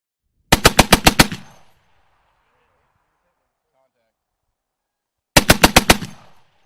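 Two rapid bursts of gunfire, each about six sharp shots in quick succession, loud and close, separated by several seconds of silence.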